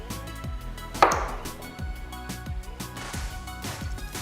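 A knife chops potatoes steadily on a cutting board, sharp repeated thuds about every half second, close by, with one louder crunching cut early on.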